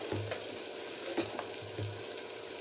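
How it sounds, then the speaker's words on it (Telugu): Onions frying in a pan for horse gram rasam (ulava charu), a steady close sizzle with a few soft spoon scrapes and low thumps, no voices. "కొద్దిసేపు ఉల్లిగడ్డ వేగనియాలి."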